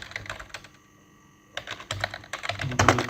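Rapid keystrokes on a computer keyboard as a comment is typed into a document, clattering in bursts with a short pause in the middle, close and clear with no talking.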